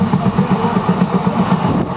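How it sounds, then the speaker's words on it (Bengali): Train rolling at speed through the hills near Nashik toward Bombay, a steady close rumble with rhythmic low clatter beating throughout, loud and continuous with no talking. "ট্রেন জোরে চলতেছে"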